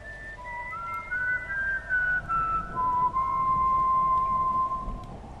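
The legendary whistle of El Silbón, a thin, eerie human whistle sliding through long drawn-out notes that rise and fall, steady and alone against a soft rumbling background.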